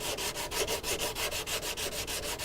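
An 80-grit sanding block is worked by hand across a Knight Rider TV replica dash during prep for primer, giving a fast, even rhythm of rasping back-and-forth strokes, close and steady.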